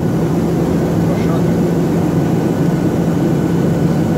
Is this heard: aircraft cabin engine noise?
yes